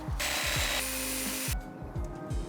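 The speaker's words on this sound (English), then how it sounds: "For these pallets, I could just use the sawzall to cut the nails up" A sawzall reciprocating saw chews through long, twisted nails in wood pallets, a loud, harsh buzzing cut with rapid rhythmic strokes that cuts out partway, then restarts in short bursts close by.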